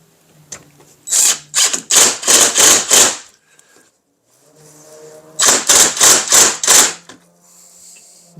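A screw being driven and tightened a further quarter turn with a power driver, heard as two loud bursts of rapid ratcheting clicks, each about two seconds long, separated by a short pause, with no talk.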